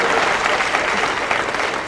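Audience clapping at a Kannada comedy show, a dense, steady wash of applause that fills the whole moment without a break.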